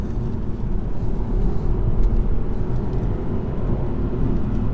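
A 2018 BMW 118i with a 136 hp engine pulling while driving, a steady loud low engine drone and road rumble from inside the cabin, continuous with no talk over it.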